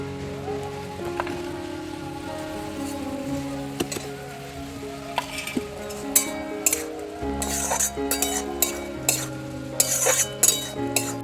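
Fish frying in hot oil in a home kitchen, a soft continuous sizzle under intermittent clinks and scrapes of a utensil against the pan, with sharper metallic taps later.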